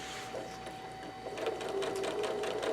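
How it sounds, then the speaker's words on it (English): A sewing machine running steadily during machine quilting, a close, even mechanical hum with a fast rhythmic needle chatter that picks up slightly partway through, with no talking. "So this is a great project to get started with machine quilting."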